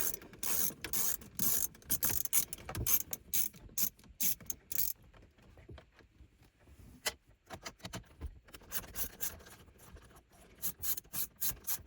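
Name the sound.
removing 7mm screws with socket ratchet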